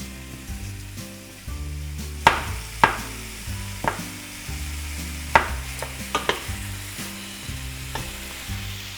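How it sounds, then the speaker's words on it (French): Apple quarters sizzle in a frying pan while being stirred for a Normandy apple cake, with a steady frying hiss broken by sharp knocks and scrapes of the utensil against the pan. "nous allons placer maintenant les quartiers de pommes dans la poêle."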